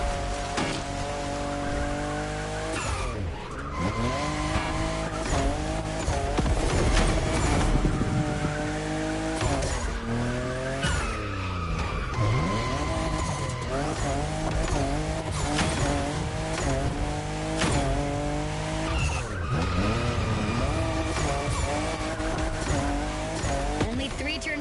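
Toyota Supra fifth generation racing in a video game, engine tones sweeping up and down through constant gear changes with tire squeals, loud and continuous, with game music or effects layered over it.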